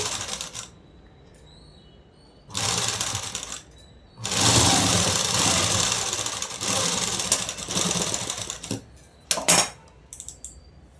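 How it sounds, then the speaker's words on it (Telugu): A sewing machine stitches festival dress fabric in several bursts of rapid whirring, separated by short quiet pauses and a few clicks, close and clear with no talking. "ఈ పైన కూడా అండి కొంచెం ఇలా మడిచేసి కుట్టు అనేది వేసేసుకోవాలి"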